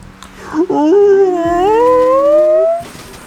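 A person imitates a dog, voicing a long, wavering howl that rises and bends before sliding down into a yawning sigh, loud and close, alone without other talk.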